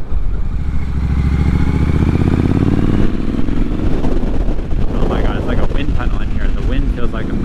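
A motorcycle cruising at highway speed, around 80 miles an hour, drones steadily under heavy wind buffeting on the microphone, with the engine tone shifting partway as the rider talks over it.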